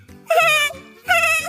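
A woman imitates a baby goat, giving two short, high, quavering bleats separated by a brief pause, close and clear with no other sound around them.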